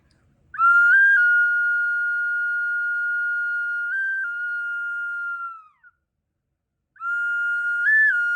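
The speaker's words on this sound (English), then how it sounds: "this little dog whistle, this little silbato, and I'll play it for you" A small dog-shaped clay whistle sounds a pure, steady high tone held for about five seconds with slight pitch bumps, then a second blow after a pause, close and alone.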